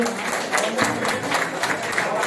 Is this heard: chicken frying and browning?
no